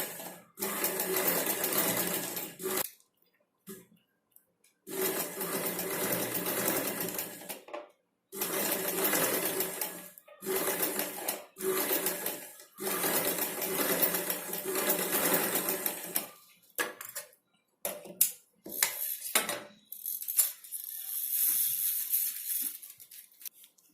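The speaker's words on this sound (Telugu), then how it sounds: "ఈ విధంగా మనం ఈ లేస్ని స్టిచ్చింగ్ చేసుకోవాలి." A sewing machine stitches lace onto blouse fabric, running in repeated bursts of several seconds with short pauses between, loud and close with no talking.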